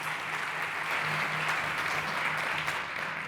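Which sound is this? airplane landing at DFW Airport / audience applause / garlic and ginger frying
audience applause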